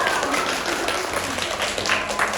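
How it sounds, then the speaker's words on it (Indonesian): Classroom applause from students during an Indonesian language lesson, a dense, steady patter of many hands clapping for a couple of seconds, with faint voices mixed in. "Tepuk tangan untuk kita semua"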